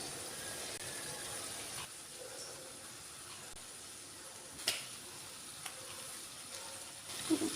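Eggs go into masala frying in a pan for an egg roast, giving a faint, steady sizzle with a few soft clinks and stirring knocks.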